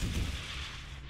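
Explosions in the video game XCOM 2 boom out in a dense, loud burst of rumbling blasts that fade into a steady low roar.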